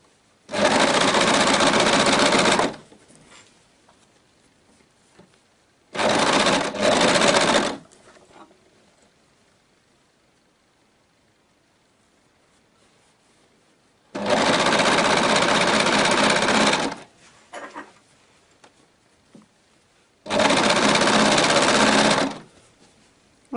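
A sewing machine stitches elastic onto leggings in four loud, steady bursts of rapid whirring, each lasting a few seconds, separated by quiet pauses with faint handling noises.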